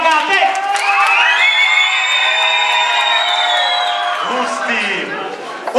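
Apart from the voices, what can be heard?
children's audience clapping, cheering and shouting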